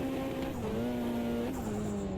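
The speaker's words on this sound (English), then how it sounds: "I'm revving the engine like crazy, and I'm deliberately riding the clutch" Mitsubishi Lancer rally car in a racing video game, engine held at high revs with the clutch half engaged, a loud steady drone with slight pitch dips and a faint tire squeal.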